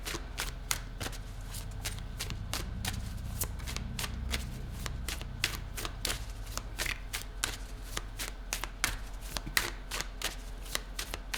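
Tarot cards are shuffled close up in a quiet room, giving a continuous run of crisp riffling snaps at an even, rapid pace with no talking.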